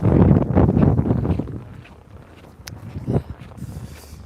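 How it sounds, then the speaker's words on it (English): Outdoor wind buffets the microphone with heavy low rumbling gusts that ease off, then return more weakly, with a few faint shuffling sounds and no talk. "The wind."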